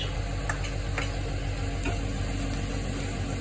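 Onions sweat in a pan with salt, a soft continuous sizzle under a few sharp clicks and scrapes of a utensil stirring them; fairly quiet and close, no voices.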